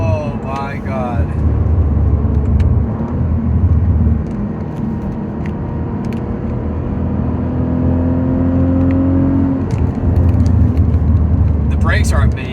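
A Cadillac CT4-V Blackwing with an automatic transmission accelerates hard along a country road, its engine note rising and holding steady as it pulls, heard from inside the cabin under continuous excited talk.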